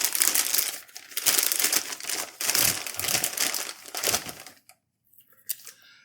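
A plastic zip top bag handled in a kitchen while curing pork, with close, loud crinkling and rustling in uneven bursts for several seconds, then near silence with a brief faint crinkle.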